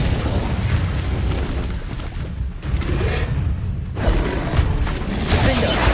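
Confringo spell explosions from the Hogwarts Legacy video game, a dense run of booming blasts and bursts piled over continuous battle noise, with voices shouting through the fight.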